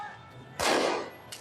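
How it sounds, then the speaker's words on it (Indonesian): Fireworks being fired, a sudden loud burst that sustains broadly for about half a second and then fades, with another sharp pop starting near the end. "Lihat itu, mereka menembakkan kembang api."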